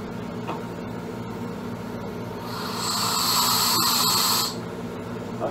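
Compressed-air engine driving a bicycle assist motor with an air leak, running as a steady mechanical whir and hiss that swells into a louder high-pitched whine for a couple of seconds before dropping back, with no talk.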